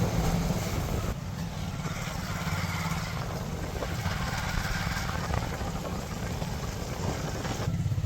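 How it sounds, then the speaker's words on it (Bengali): A motorcycle carrying four riders, its engine humming steadily at a moderate, even level throughout, with no voices over it. "আমরা 4 জনেই এক বাইকে যাচ্ছি।"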